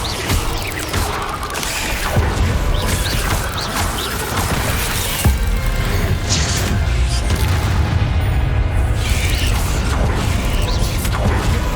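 Spell casting in Hogwarts Legacy, where the Incendio fire charm bursts out repeatedly in loud whooshing, crackling blasts over a dense, continuous game soundscape.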